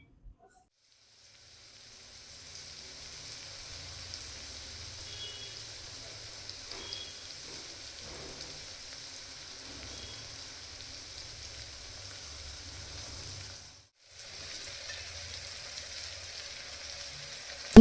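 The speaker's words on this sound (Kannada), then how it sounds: "ಒಂದು ಕಡೆ ಇವಾಗ ಹಾಗಲಕಾಯಿ ಕೂಡ ಹುರ್ಕೋತಾ ಇದ್ದೆ." Bitter gourd fries in a pan with a steady soft sizzle and hiss that runs almost throughout, briefly dropping out near the end, with no talking.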